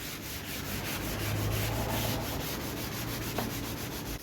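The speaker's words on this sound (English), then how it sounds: "Before I stain it, I'm gonna sand it real quick with some 320 sandpaper." Sanding a vintage wooden end table by hand with 320-grit sandpaper: a continuous close, rasping scrub with rhythmic back-and-forth strokes, no talking.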